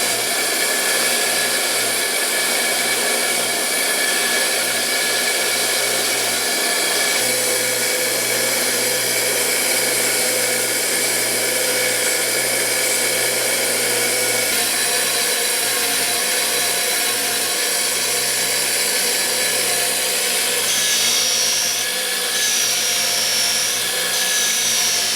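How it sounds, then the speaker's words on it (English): A bench wire wheel runs continuously and loudly, a steady high whirring grind as it cleans an MGB overdrive brake ring and rear flange, the pitch shifting slightly as parts are pressed against it. "Let's get these cleaned up on the wire wheel."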